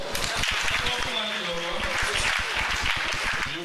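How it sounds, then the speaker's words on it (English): Wedding guests clap for a newly married couple just after they sign the marriage register at a church ceremony, a dense steady patter filling the room with voices murmuring beneath it. "Please clap for them"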